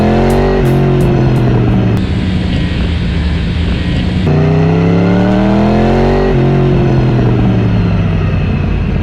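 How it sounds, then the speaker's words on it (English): Steady motorcycle exhaust drone with shifting pitch as revs rise and fall, loud and continuous, no wind buffeting or voices. "windless exhaust audio to go with your GoPro footage"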